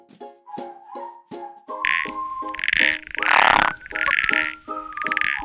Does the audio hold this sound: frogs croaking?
yes